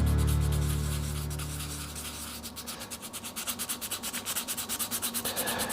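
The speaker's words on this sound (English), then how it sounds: "give this bottom of this knot a little rough up with a bit of sandpaper" Coarse sandpaper roughs up the base of a wood knot and its glue plug on a turned shaving brush, starting as a steady close rasp, then turning into quick, rhythmic back-and-forth sanding strokes, loud and alone.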